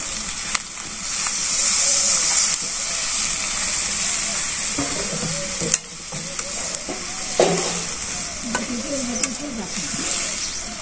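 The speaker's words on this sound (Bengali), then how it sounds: "এখন পরিমাণ মতো জল দিয়ে দিন, অল্প পরিমাণে।" Frying egg and spice curry in a village kitchen, a loud steady sizzle running throughout with scraping stir strokes, and water being added in small amounts with a brief splash and hiss midway.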